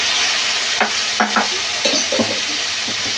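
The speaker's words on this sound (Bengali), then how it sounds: "আদাটা ভালো করে কষানো হয়ে গেছে, এবার দিয়ে দেবো টমেটো।" Tomato goes into onion-ginger paste frying in a pan for catla fish kalia. Loud, continuous oily sizzle with a few sharp scraping stirs of a spatula.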